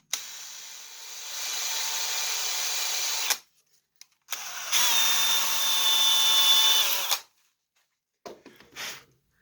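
A power drill bores into a wooden pie crust table, whirring steadily for a few seconds, stopping, then running again in a longer burst, followed by brief faint rattling.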